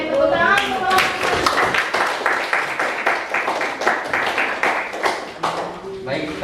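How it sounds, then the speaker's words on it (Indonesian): Students in a classroom clap for a student group, a burst of many close, crisp hand claps that swells, then thins out over several seconds, with voices talking over it near the end. "tepuk tangan untuk kelompok 4."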